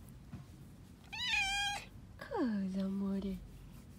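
A cat gives two clear, close meows, the second a longer falling cry, while someone speaks softly in Italian between them.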